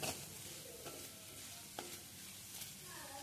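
Pav bhaji vegetables sizzle in a pan while a spoon scrapes and stirs through them, with a few distinct strokes over a quiet, steady frying hiss.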